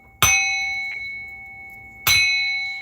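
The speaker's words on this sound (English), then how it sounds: "Let's ring my bell real quick" A small bell is struck twice about two seconds apart, each strike giving a bright, clear ding that rings on and slowly fades, loud and close with no talking.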